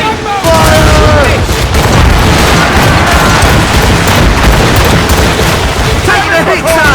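Ship cannons fire in Assassin's Creed Rogue, a continuous loud barrage of booming shots and heavy rumble, with shouted voices over the battle.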